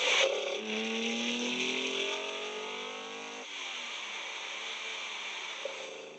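Engine of a 1972 Holden XU1 Torana muscle car, revving up through rising tones, then shifting down with a drop in pitch and pulling again, moderately loud and sustained with no talk.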